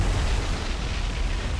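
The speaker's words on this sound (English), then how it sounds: "Nuremberg just got a very nice magazine explosion" A warship's magazine detonates in the War on the Sea naval game, a loud, sustained low rumbling boom that fills the whole stretch with dense, roaring blast noise and no talk.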